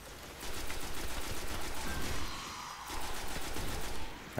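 Machine gun fire in the video game Destiny, a steady rapid stream of shots in repeated bursts with a brief lull midway, loud against the game's background noise.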